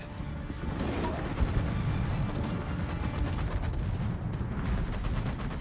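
Naval gun salvos and explosions in the warship battle game World of Warships, with dense rumbling gunfire and booms rolling continuously at steady loudness, no talking.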